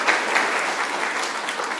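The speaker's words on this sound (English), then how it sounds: "Let's hear it for Pedro." An audience at a university capstone symposium claps steadily, a dense, even wash of applause from many hands that carries on without pause for the whole stretch.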